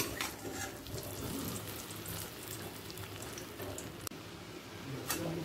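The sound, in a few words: katla fish egg fritters frying, flipped to other side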